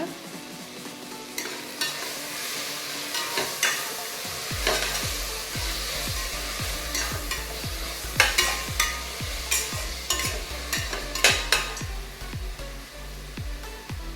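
Coriander leaves and mint sautéing in a pot for one-pot chicken biryani, a steady close sizzle with rhythmic scraping and knocking strokes of a stirring spoon throughout.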